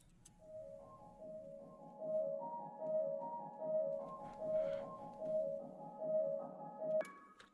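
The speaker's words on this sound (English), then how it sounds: "Then I got the piano from Labs with just arpeggiated," Arpeggiated piano from the Labs plugin in an ambient beat: quiet, repeating broken-chord notes cycle in a gentle rhythmic pattern over a soft bed, ending with a brief bright tap.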